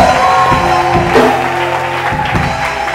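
Church congregation at a night vigil applauding, a dense, loud wash of clapping with a few voices and shouts mixed in, sustained throughout.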